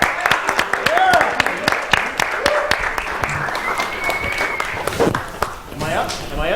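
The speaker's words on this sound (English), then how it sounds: "Round of applause." Sparse, distinct claps from a studio crowd at an MST3K telethon sound over lively chatter and exclamations, loud and close, with voices dominating the scattered clapping.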